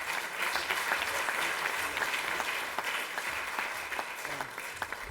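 An audience at a Sikh sacred music performance at the Ronald Reagan venue applauds, a dense sustained wash of clapping from a large crowd lasting the whole stretch at steady strength.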